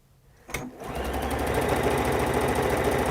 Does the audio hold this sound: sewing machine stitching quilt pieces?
yes